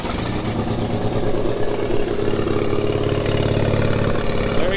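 The Onan twin engine on a 50-year-old Gravely 816 rear-engine garden tractor runs loud and close, a steady rough mechanical drone with a gently pulsing beat and no one talking.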